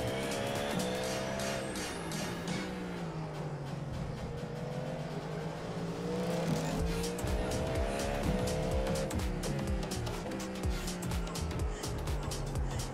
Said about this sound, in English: Cars approaching.